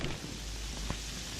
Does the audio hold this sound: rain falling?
yes